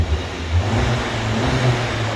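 A 297bhp SEAT Leon Cupra Lux 4Drive with a DSG gearbox, its engine droning with a steady low exhaust note while driving at speed, moderately loud and unbroken, with no voices.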